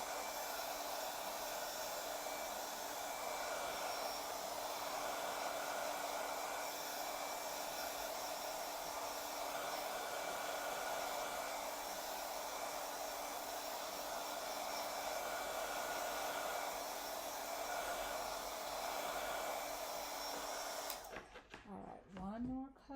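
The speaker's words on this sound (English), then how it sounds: "I'm just going to get my heating tool and see." A heat tool blows steadily to dry craft paint, a constant whirring hiss held for about twenty seconds before it shuts off with a few handling clicks.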